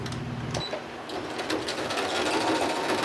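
A sewing machine stitches lace onto a journal folio cover, a fast steady mechanical whirr running close and continuous after a brief start, with no talking.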